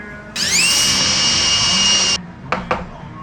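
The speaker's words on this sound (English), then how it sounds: "I'm gonna drill a lot of these" A power drill whirs loudly for nearly two seconds as it bores pocket holes into wood, followed by two short bursts of the drill.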